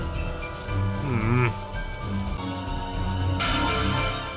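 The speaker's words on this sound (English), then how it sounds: "What a fluffy puffy goat." A goat in the video game Tales of Zestiria lets out wavering bleats against steady game music, one bleat early and another near the end, loud and close.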